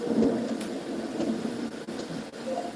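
A steady wash of rain noise with a low, rumbling undertone like distant thunder, continuous and fairly quiet throughout, a thunder and rain sound effect.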